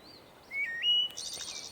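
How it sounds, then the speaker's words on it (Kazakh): A nightingale sings a short phrase of clear, sliding whistles followed by a rapid trill of repeated notes. The bird sounds fairly close and there are no voices. "Айрыкча булбулдун сайраганы жагымдуу сезилет."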